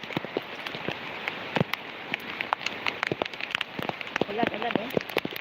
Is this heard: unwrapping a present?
no